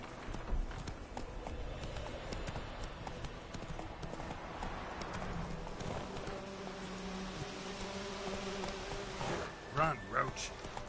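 Hooves of Roach, a horse in a PS4 video game, clip-clop in a fast, steady galloping rhythm throughout, with a few brighter game effects near the end.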